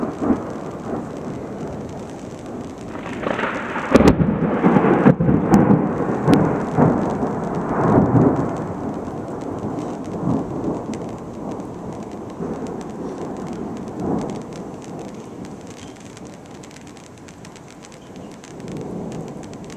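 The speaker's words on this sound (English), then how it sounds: "Here's the rain." Heavy thunder rumbles and cracks over steady rainfall on Storm Mountain in the Black Hills, South Dakota, loudest in the first half, then a continuous wash of rain pattering on surfaces.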